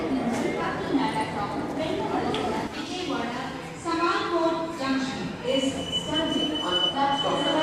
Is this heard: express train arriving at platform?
yes